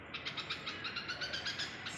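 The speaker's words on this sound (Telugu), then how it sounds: "ఆ పిచ్చుకలు అయితే కంటిన్యూగా మొత్తుకుంటున్నాయండి" Sparrows from a disturbed nest call out insistently, a quick series of sharp, evenly spaced chirps repeating nearby and fairly quiet, with no voices.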